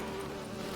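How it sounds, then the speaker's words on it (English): Buzzing bees from the video game The Witcher 3: Wild Hunt, a steady droning insect hum that fills the brief moment alone, constant and close. "Oh, the bees."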